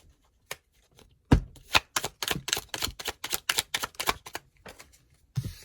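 Oracle cards are pulled and handled in a rapid series of crisp snapping and flicking clicks, close and distinct, with brief quiet touches before and after.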